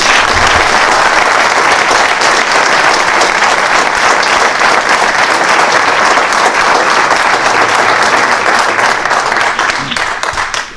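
A seated audience at a book presentation gives a loud, sustained round of applause, dense clapping that stays full for about ten seconds before tapering off.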